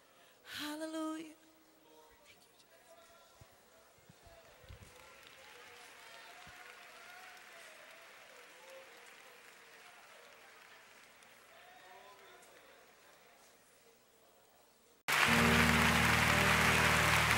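Congregation applauding during a worship service, a steady moderate wash of clapping that swells to a loud, dense burst near the end, with a voice briefly heard near the start.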